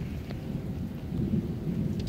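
Thunder from a lightning storm rumbles low and distant, a soft continuous roll that swells slightly in the second half, with faint rain-like hiss and no voices.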